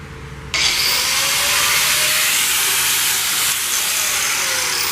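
A 4.5 inch angle grinder cutting through the roof of a 1931 Ford Model A, starting abruptly with a loud, harsh, steady metallic hiss-whine that holds close and constant to the end.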